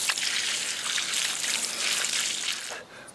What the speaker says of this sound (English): now I'm flushing out the end pipe here of the main line, making sure there ain't no dirt on here.